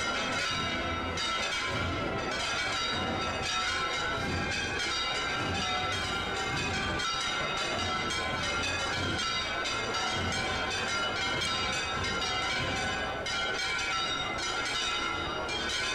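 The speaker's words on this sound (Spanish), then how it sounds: "No, las campanitas no paran." Bells of a Córdoba church ring without pause for a Palm Sunday procession, with fast, clanging strikes layered into a loud, sustained din and no voices.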